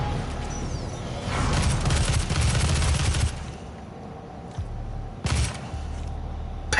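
Gunfire in DOOM (2016) on the mission "The Foundry": a dense burst of rapid shots for a few seconds, then a couple of sharp single blasts amid game noise, with no talk.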